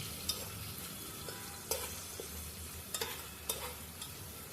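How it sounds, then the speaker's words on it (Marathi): Onions frying in a pan for masale bhat: a steady, faint sizzle with a few soft stirring taps scattered throughout, no voices. "व्यवस्थित कांदा भाजून घ्या।"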